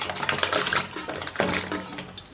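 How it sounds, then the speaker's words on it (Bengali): Freshly picked greens and vegetables being washed by hand in water, steady splashing and sloshing with clinks of a pot or bowl, close and moderately loud. "চলো ধুয়ে নিচ্ছি সবজিগুলো"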